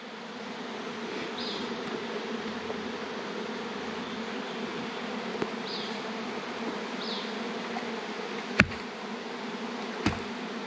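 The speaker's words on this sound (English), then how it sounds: "Bees." Continuous low buzzing of bees in a bee tree, steady and fairly close, with a couple of faint clicks and taps over it.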